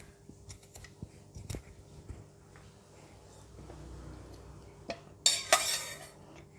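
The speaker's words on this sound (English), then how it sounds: "Use the spoon or teaspoon to remove all the seed out from here" A spoon scrapes seeds out of a bitter gourd with soft scattered scrapes and light taps, close and quiet, building to a brief burst of louder scraping near the end.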